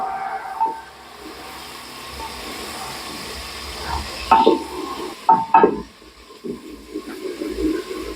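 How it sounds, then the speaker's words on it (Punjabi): Tomato and two green chillies roasting in a pan for bajra khichdi, with a soft steady sizzle under a few scraping stirs and clatters of a spoon against the pan, no talking. "ਟਮਾਟਰ ਨੂੰ ਅੱਛੀ ਤਰ੍ਹਾਂ ਸੀ ਭੁੰਨ ਲਵਾਂਗੇ ਪਹਿਲਾਂ"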